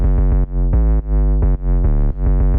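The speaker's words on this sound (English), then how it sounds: "I have an 808 loop that sounds like this by itself" A punchy 808 electronic drum loop with deep booming bass kicks repeating in a steady groove, playing alone with no voices.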